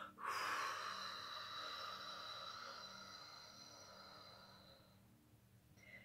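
A person bends forward and pushes out a long breath during a laughter yoga exercise. The exhale starts with a strong rush and fades slowly over several seconds, breathy and close, with no talking.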